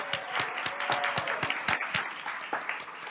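A small audience at a school district governing board meeting claps steadily, individual hand claps audible within a moderate, fairly quiet round of applause.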